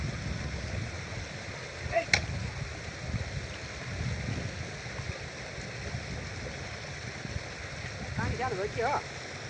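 Flowing water in a small channel being blocked with a makeshift tool in place of a spade, a steady rushing stream close by with occasional splashes and faint voices in the background.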